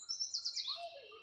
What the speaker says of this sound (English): Just because you could hear the birds